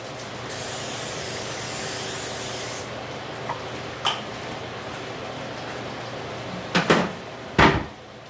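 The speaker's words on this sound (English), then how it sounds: "Get my little bit of my spray," Cooking spray hisses onto a pan before oven baking in a home kitchen, one long steady burst up front, followed by a few quieter clicks and knocks and two sharp nearby clatters near the end.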